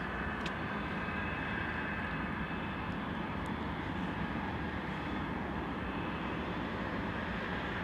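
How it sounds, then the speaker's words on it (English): A Boeing C-17 Globemaster approaching Anchorage makes a steady, distant jet rumble and roar that stays at an even, fairly faint level throughout, with no voices. "C-17 approaching from the west"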